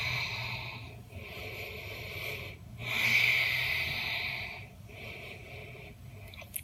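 Slow, deep yogic breaths drawn in during a passive back bend, several long airy inhales and exhales with a stronger breath in the middle, close and soft with no talking.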